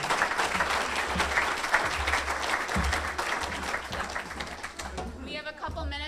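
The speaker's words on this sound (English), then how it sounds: "Let's give Dr. Bencie a round of applause." Audience applause after a talk at a Kiwanis Club meeting in Bradenton, a steady round of clapping from a modest room that thins out toward the end as a voice begins.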